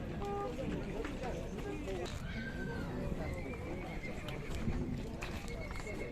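Horses neigh and whinny at a busy outdoor horse market near Bishkek, with hooves clip-clopping and a crowd murmuring steadily in the background; several whinnies stand out over the hubbub.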